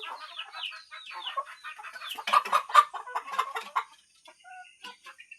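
Chickens clucking near a farmyard, a busy run of short, overlapping clucks and calls that peaks in a louder flurry midway, then thins to a few scattered notes.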